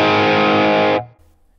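A held, distorted electric guitar lead note through a HeadRush amp model with cabinet IR and reverb, loud and sustained, then cut off, leaving a short faint reverb tail.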